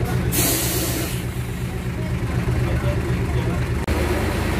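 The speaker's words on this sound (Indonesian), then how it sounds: "Mobil-mobil yang mengantri ini menuju Aceh." Queue of cars and trucks idling in a nighttime traffic jam caused by flooding in Aceh Tamiang, Indonesia: a steady, loud rumble of engines with broadband road noise and a brief hiss, continuous throughout.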